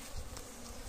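Honey bees buzz in a steady, dense drone around a hive being opened for its honey, a continuous close hum with no voices over it.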